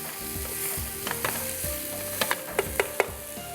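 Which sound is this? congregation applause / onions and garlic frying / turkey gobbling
onions and garlic frying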